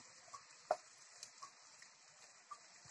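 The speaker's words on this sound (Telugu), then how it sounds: "అది మొత్తం వేసేసి బాగా కలుపుకోవాలి." A spoon stirs a fried tomato and onion puree in a kadai, giving soft, close scrapes and light sizzling with a few distinct knocks at intervals. The sound is quiet, with no speech.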